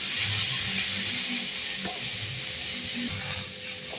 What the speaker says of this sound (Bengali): এবার নেড়ে চেড়ে সুন্দর করে সবজির সঙ্গে হলুদ লবণটাকে জড়িয়ে নেবো।